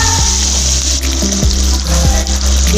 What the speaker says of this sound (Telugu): పచ్చిమిర్చి 5 వేసుకొని బాగా కలుపుకోవాలి. ఇవి కొంచెం సేపు వేగనిద్దాము.